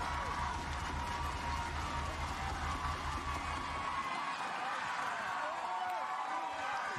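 Fans at a state championship softball game between Milton and Kenosha Bradford cheer as a steady, distant crowd roar with indistinct shouts, sustained throughout with no clear claps.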